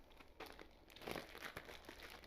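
A plastic zip bag holding chicken wings for jerk chicken is handled and crinkled, with uneven rustling bursts over a couple of seconds, close and fairly quiet.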